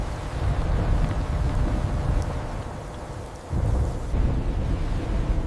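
A heavy thunderstorm rumbles with low rolling thunder over steady, dense rain and gusting wind, loud and continuous, with the rumble dipping briefly before surging again.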